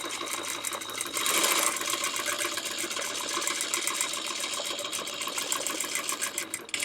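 Sewing machine free-motion quilting a circle design along a quilt border, running continuously at close range with a steady rapid needle rhythm and a brief surge in speed early on.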